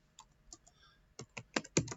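Someone types a short command on a computer keyboard, giving a few scattered soft key clicks followed by a quicker, louder burst of presses, all close up.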